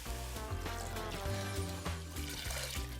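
Water pours steadily into a cooking pot of chicken soup with chicken legs and onion, a continuous splashing trickle close by with no talking.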